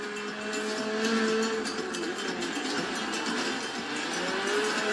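A race car engine in the Forza Horizon 3 racing game holds a steady, droning tone with slight rises in pitch. It runs continuously at moderate volume, with no talk over it.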